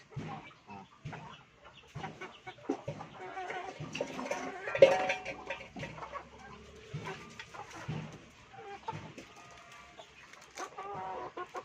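Several pet chickens being fed cheese balls cluck and squawk close by in irregular, overlapping bursts.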